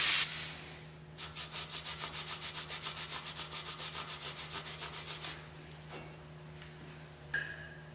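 Brake parts on a 2006 Jeep Wrangler wiped with a clean rag and brake parts cleaner: about twenty quick, even rubbing strokes repeat for four seconds, close and fairly loud, with no talking.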